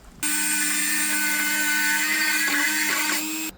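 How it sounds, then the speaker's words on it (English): A Dremel rotary tool spins up to a steady, piercing high whine while cutting plastic car trim, holding for about three seconds before stopping abruptly. "I'll use the Dremel for that."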